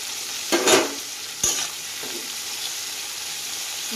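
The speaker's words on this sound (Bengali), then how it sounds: "আর এই যে এখানে করলা ভাজছি" Sliced bitter gourd frying in a pan with green chillies, a steady oil sizzle throughout and a couple of sharp scraping stirs of a spatula near the start.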